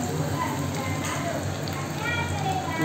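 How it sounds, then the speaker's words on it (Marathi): Garlic sizzling in hot ghee with cumin and mustard seeds, a dense, continuous crackling sizzle close up, steady and loud for the whole moment. "जिरं मोहरी. त्याच्यात टाकणार लसूण,"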